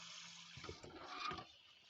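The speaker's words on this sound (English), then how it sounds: "A little bit of water." A small splash of water goes into a pan of smoked paprika and spices cooking at a campervan camp stove, a faint, brief watery hiss and sputter lasting about a second.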